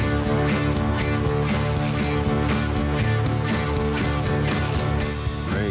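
A ratchet with a socket tightens timing cover bolts, its continuous mechanical clicking loud and close, layered with a humming steady background and no speech.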